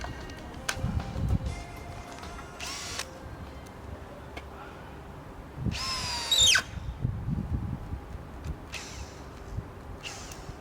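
A Makita cordless drill driver drives screws in short whirring bursts, straining on the last few screws that it no longer fully sinks, with clicks and handling noise between the bursts.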